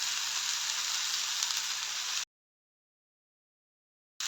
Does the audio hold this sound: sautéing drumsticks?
yes